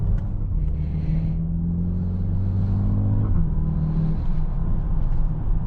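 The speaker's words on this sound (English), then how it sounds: "Look how quick those gear shifts are." Steady engine drone from a 2025 Mercedes-AMG GLB 35 with a rapid change in pitch partway through, as the revs drop sharply during a quick dual-clutch gear change.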